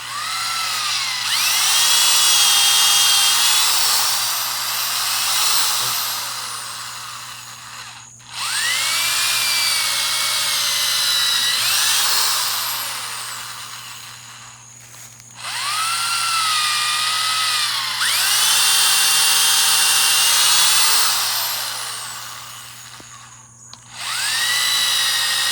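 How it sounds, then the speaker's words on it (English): A power drill whines in three long bursts separated by brief pauses, its pitch shifting as it bores down into a wisteria root, close and steady over a low hum. "another technique is to actually drill down into the root"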